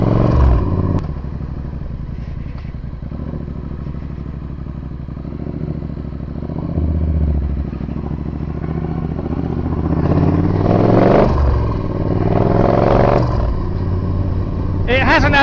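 Supercharged Triumph Bobber motorcycle rides along, its engine a steady loud rumble with brief revving swells and wind noise, while a rider talks over it throughout.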